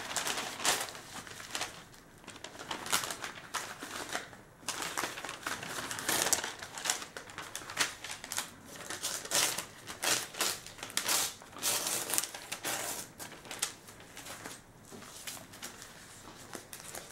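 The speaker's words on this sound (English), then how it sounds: "Okay, let's start printer." A USB tattoo transfer printer runs with a quick, irregular clatter of mechanical clicks and papery rustling, busy and close throughout without any voices.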